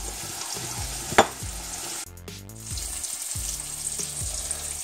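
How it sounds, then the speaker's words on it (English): Shredded cheese stirred into a hot chicken casserole, with a steady sizzling hiss and soft scraping of the spoon in a repeating rhythm, close and clear, with no talk. "So you just want to put in a little bit at a time and stir it in, let it melt and thicken."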